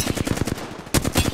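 Rapid machine-gun fire in a video game strikes the player, a fast even string of loud close shots, a brief pause, then another burst.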